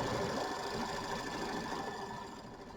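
An embroidery machine stitches a pebble quilting design on a Kimberbell mini quilt, giving a steady, fast mechanical whir with rapid needle clatter close by, continuous throughout.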